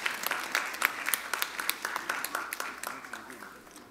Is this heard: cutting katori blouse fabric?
no